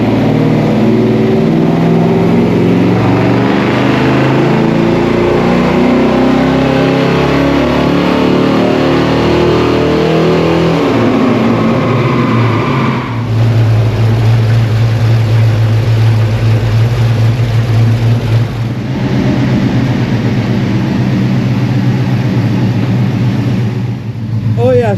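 A 2024 Chevrolet Camaro SS fitted with headers, intake and a tune drives along, its engine droning loudly with a shift in pitch partway through, interior road rumble underneath and a voice speaking over it.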